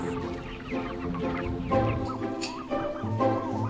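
Meat chickens clucking and murmuring in a group on a farm, steady and fairly close, with overlapping calls throughout and no talking.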